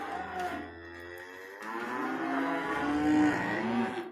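Cattle on a farm, including newly made steers and heifers, low mooing and bellowing several times at a moderate distance, overlapping calls rising louder toward the end with no talk.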